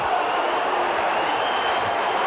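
Broad, sustained crowd murmur swelling into an ooh at a Wigan versus Castleford rugby league playoff match, a large stadium crowd heard at a distance, steady without distinct voices.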